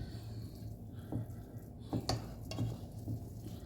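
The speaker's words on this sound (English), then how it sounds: "Just stir it around and fluff it up." Cooked rice stirred and fluffed in a pot for a creamy chicken rice dish, soft scraping and moist clicking strokes repeating every half second or so, close and fairly quiet.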